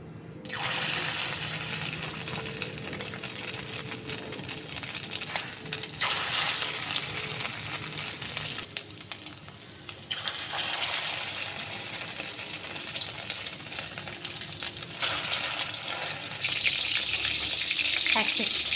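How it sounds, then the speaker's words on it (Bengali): Prawn fritters deep-fry in hot oil in a wok, giving a loud, steady sizzle and crackle that runs throughout, with a few surges as batter is added and stirred. "কড়াইয়ে তেল দিয়ে দিয়েছি তেল গরম হয়ে গেছে এখন আমি এগুলো বড়ার আকারে ভেজে নেব"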